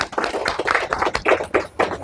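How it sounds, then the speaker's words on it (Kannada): Applause from an audience at a Kannada public awareness event in Doddabidarakallu, Bengaluru, with irregular bursts of hand claps for about two seconds, fairly loud and close. "ಅವ್ರಿಗೊಂದು ದೊಡ್ಡ ಚಪ್ಪಾಳೆ ಹೊಡಿಬೇಕು."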